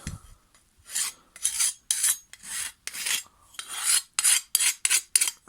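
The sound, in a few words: filing the edge of a Hyundai lawn mower blade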